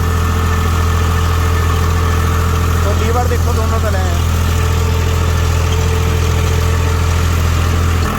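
A tractor engine runs smoothly at a steady 1600, a loud, unbroken low drone close by, with someone talking briefly over it.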